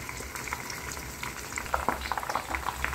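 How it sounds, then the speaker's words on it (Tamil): Homemade hair oil with hibiscus flowers and curry leaves bubbling and boiling in a pan, a steady close frying-like crackle and popping of small bubbles throughout. "நல்ல பபுள்ஸ் வருது. இந்த பபுள்ஸ் எல்லாம் நிற்கிற வரைக்கும் அப்படியே கொதிச்சதுக்கப்புறம் ஆஃப் பண்ணிட வேண்டியதான்."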